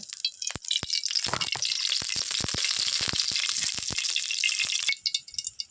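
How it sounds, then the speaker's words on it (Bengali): Oil sizzles and crackles in a kadai, with a continuous close frying hiss and scattered sharp pops before it quiets near the end. "আমি এই কড়াইতে অল্প করে একটু তেল দিয়ে দেব।"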